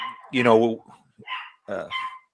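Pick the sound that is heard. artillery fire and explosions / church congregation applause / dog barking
dog barking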